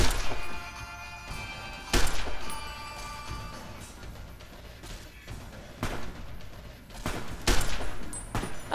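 Gunfire in Fallout: New Vegas comes in sharp, separate bursts spaced a second or two apart, each loud shot standing out over a low, steady background.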